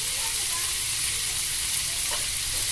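Longganisa sausage fries in oil in a pan with a dense, continuous close sizzle and crackle that holds steady throughout, with no voices.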